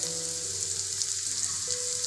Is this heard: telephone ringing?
no